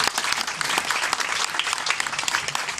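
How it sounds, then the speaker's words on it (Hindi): Enthusiastic audience applause fills the space at a speech event honoring a social worker, dense steady clapping from a crowd with no pauses, loud and close throughout. "तो इसलिए एक जोरदार तालियां"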